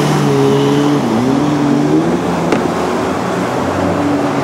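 A small dirt bike engine drones steadily while riding beside the Delaware River, its pitch wavering and dipping as the throttle shifts, close and loud throughout.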